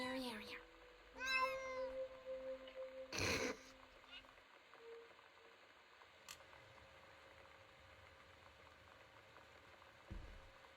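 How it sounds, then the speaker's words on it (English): A voice actress for the game Gone Home says meow in a flat, serious tone, a few short meows near the start over a low hum, followed by a sharp burst and then quiet. "it was a journal entry of just the voice actress for Sam saying meow in a completely serious manner over and over"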